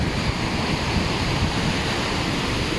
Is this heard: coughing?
no